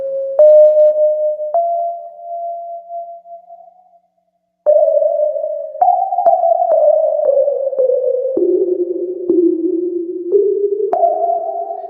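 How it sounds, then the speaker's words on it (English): A cluster of eight sine waves from a modular synthesizer sounds as clean, pure tones stepping between pitches with soft clicks at each change, briefly fading to silence midway before resuming with slight wavering beats. "This is actually 8 sine waves doing the same thing right now."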